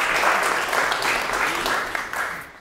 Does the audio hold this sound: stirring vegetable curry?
no